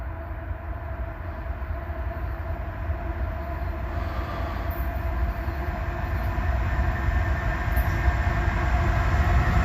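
A train rumbles past through a signal at steady speed, a low continuous roar with rhythmic rail clatter that grows slightly louder over time.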